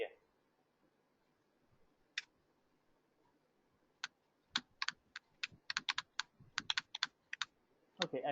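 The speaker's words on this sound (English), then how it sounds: "Are you typing something?" Typing on a computer keyboard during a remote support session, heard as irregular bursts of sharp key clicks, a single tap then a quick cluster of taps, close and fairly quiet in a still room.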